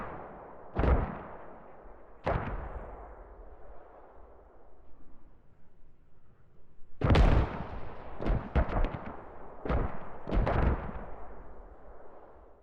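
An artillery barrage in the military shooter game Squad: two heavy booming impacts early, then after a lull a quicker cluster of five or six loud blasts, each leaving a long rumbling tail, with no voices.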